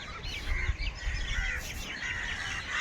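Many crows caw and call at once, a continuous overlapping chorus of harsh bird cries close by.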